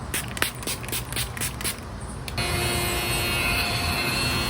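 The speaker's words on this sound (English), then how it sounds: "Some setting spray." Makeup setting spray is pumped in a quick run of short sharp spritzes, then a steadier hiss of spraying continues to the end.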